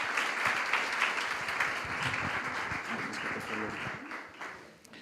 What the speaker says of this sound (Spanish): Les damos un aplauso de bienvenida a todos